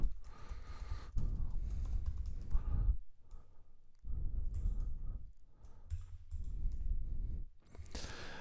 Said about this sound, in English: if I were to type a command in here